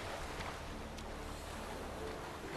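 In the game The Witcher 3, a boat moves along a river with a steady, soft wash of water and wind, even and continuous with no speech.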